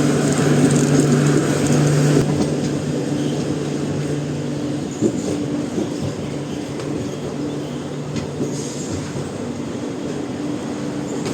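Passenger train running on the Karaikal to Mayiladuthurai line near Mayiladuthurai Junction, a steady loud rumble of wheels and carriage with a low hum throughout, no voices.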